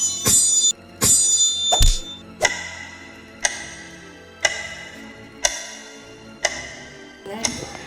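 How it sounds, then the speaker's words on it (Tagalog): A clock ticks loudly and close, sharp ringing ticks roughly once a second, the first few bunched together before settling into an even steady beat. "Nagambala si Captain Hook sa tunog ng relo."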